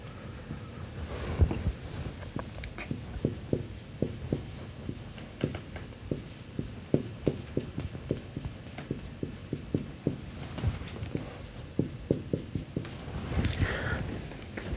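Chalk or marker writing an integral equation on a board: a steady run of short, crisp taps and scratchy strokes, close and fairly loud, with no talk over it.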